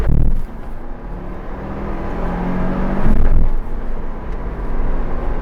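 A Ford Bronco with an automatic transmission in 4-wheel drive accelerating hard from a standstill to 60 mph, heard from inside as a loud, rising engine roar with brief dips at gear shifts and no talking.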